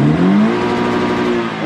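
A car engine runs loud and close, revving with a rising whine that settles into a steady, high-pitched mechanical drone.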